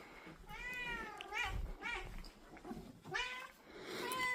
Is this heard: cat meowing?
yes